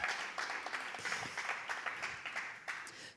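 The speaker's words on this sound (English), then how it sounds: "can we get a round of applause for Black love?" A conference audience breaks into applause, dense overlapping claps rising and settling with a steady crowd texture, moderately loud and without talk.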